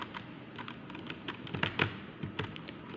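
Keys clatter on a computer keyboard during setup of an EHCP server in VirtualBox, a quick run of close, crisp taps with a few louder strikes near the middle and steady background hiss throughout.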